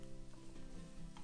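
Shiro, roasted chickpea flour, cooks dry in a pan over reduced heat, giving a soft, steady sizzle that stays faint and even throughout.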